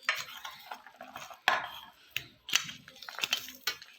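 Chanachur is mixed with mango oil in a bowl. A spoon clinks and scrapes against the bowl in repeated irregular strokes, close up and fairly quiet.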